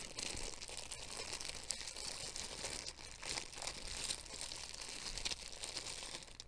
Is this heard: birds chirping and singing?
no